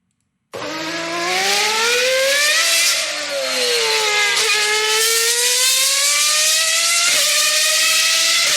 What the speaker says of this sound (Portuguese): o som é do carro em movimento, ele chegando e se afastando de mim